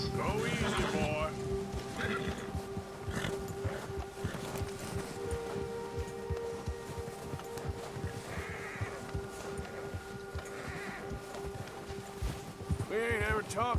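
Rhythmic clip-clop of horse hooves as a rider guides the horse off a trail in the Red Dead Redemption 2 video game, steady close footfalls under wind and occasional talking.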